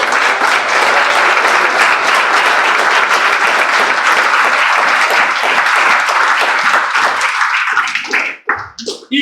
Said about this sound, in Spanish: Denle la ofrenda de palmas a Dios.